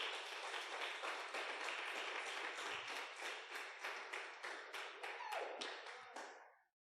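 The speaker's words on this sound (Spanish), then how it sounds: "si le vas a aplaudir, apláudele fuerte a Dios." A church congregation claps together during a sermon, sharp rhythmic unison beats repeating steadily before fading out at the end, with no voices over them.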